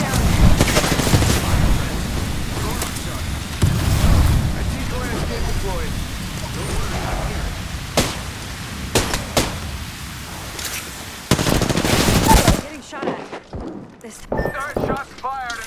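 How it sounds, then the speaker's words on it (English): Gunfire in the Apex Legends battle royale game, with sharp shots cracking in short clusters late in the sequence over a busy layer of game noise, and voices talking throughout. "The enemies are shooting at me."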